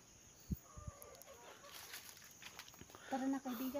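A chicken lets out a few short, quiet clucks close by, scattered over a hushed outdoor background while people talk.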